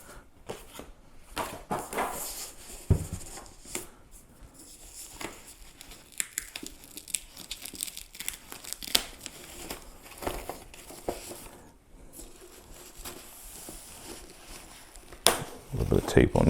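The cardboard box and plastic wrap of an Xbox Series X console are pulled open and torn: close, intermittent crinkling, rustling and ripping, with a voice heard now and then.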